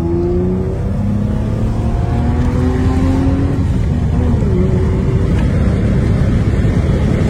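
Inside a 1989 BMW 525i E34 with the M20B25 engine, the motor accelerates in a steady, continuous drone whose harmonics climb slightly. The noise sits close and fairly loud with no talking.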